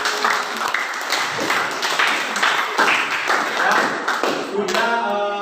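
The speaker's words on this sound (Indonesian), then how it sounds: "Tepuk tangan dulu ya." A classroom group claps after an Indonesian lesson, a dense run of hand claps at close range that lasts several seconds, with a voice heard near the end.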